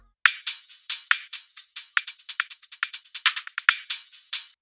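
A percussion loop sped up to double speed: sharp, bright hits in a quick, driving pattern, the hits tightening into rapid bursts midway, played alone without any voice.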